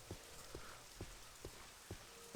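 Steady rain hissing down in the video game Morrowind, with a soft, even wash under a string of regular faint thumps, like footsteps, at a quiet level.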